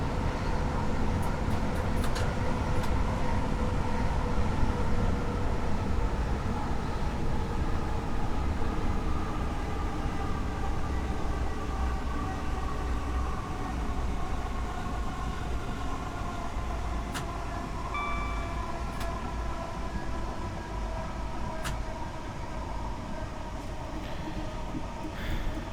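A Class 465 electric train runs in a train simulator game, with a steady rumbling hum and a whine that holds on and slowly shifts in pitch, broken by faint clicks and no talk.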